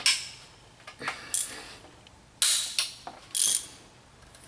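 A ratchet wrench clicks in short repeated bursts, about six sharp strokes, as it loosens tight cylinder head bolts on a 2007 Mini Cooper S R56 engine, close and clear.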